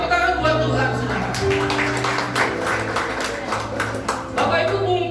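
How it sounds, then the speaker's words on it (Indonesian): A church congregation at a Christmas couples' service claps under a speaker's voice and a steady instrumental drone, the uneven hand claps coming in scattered bursts throughout. "tepuk tangan buat Tuhan saudara"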